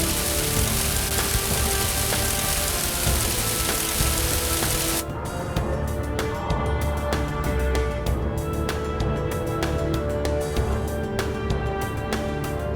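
Steady rain hisses and patters continuously, with a sudden shift in tone partway through as the downpour carries on.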